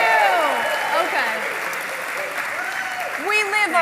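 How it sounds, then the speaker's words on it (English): An audience applauds at a dinner and keynote presentation, a steady wash of clapping that carries underneath speaking voices from the stage. "We live off applause and cheering, so we really needed that to boost us up."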